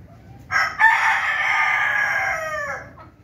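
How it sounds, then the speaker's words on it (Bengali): A rooster crows once, loud and close, with a long drawn-out call that fades at the end against a quiet background. "আর এই পাশে মুরগিগুলো"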